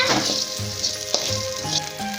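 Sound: sautéing food in a pan

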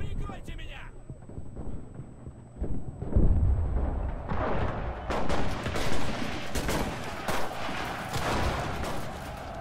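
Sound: gunfire in the video game Enlisted

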